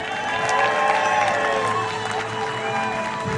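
A large crowd at a medieval combat tournament cheers and whoops continuously as Team France enters the list, a dense roar of voices with scattered shouts and clapping.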